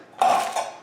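A single metallic clank of a pot or pan being set down, ringing briefly with a second small knock before fading.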